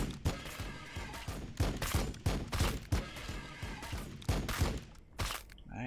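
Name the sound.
gunfire in the video game Warhammer 40k Battlesector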